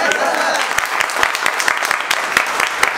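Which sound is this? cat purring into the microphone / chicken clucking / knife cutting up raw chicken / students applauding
students applauding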